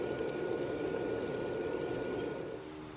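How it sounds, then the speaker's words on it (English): Hot 5160 steel knife blade quenched in oil: a steady, dense hiss and bubbling sizzle, fairly close and moderately quiet, holding evenly and easing off slightly toward the end. "I'm going to go ahead and quench this guy"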